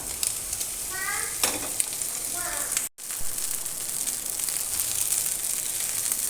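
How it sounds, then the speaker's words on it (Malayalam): Egg fried rice is stirred in a frying pan, giving a continuous close sizzle with soft scraping of the spoon, and a brief faint voice early on. "സ്ലോലി മിക്സ് ചെയ്യുക."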